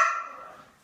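A small, frightened dog wearing a large cast lets out a single sharp, high yip that fades quickly, close by and fairly quiet.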